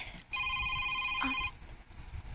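A phone rings with an incoming call. A bright electronic ringtone plays as one sustained burst of just over a second, close and clear, then cuts off into quiet room sound.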